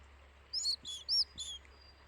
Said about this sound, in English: Does anybody else hear that bird?